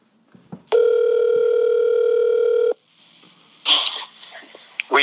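A telephone tone from a prank call sounds as one steady, loud electronic tone lasting about two seconds, followed by quieter line noise and faint clicks.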